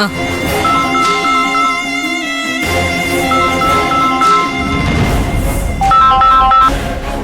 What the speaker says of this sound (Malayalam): ഫോൺ റിംഗ് ചെയ്യുന്നു